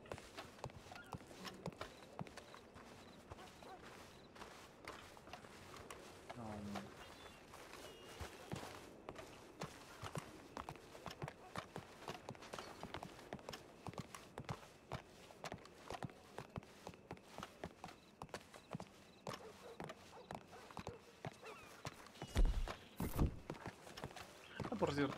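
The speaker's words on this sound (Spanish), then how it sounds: "Escucho mucho caballo, pero no veo a ninguno." Steady clip-clop of horse hooves in the game RedM, a rapid patter running throughout, with a person talking over it and a few louder thumps near the end.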